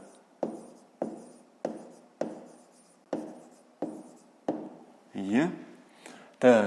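Pen on paper at a close distance, writing out a maths exercise answer in a regular series of short strokes about every half second, with a longer scrawl near the end.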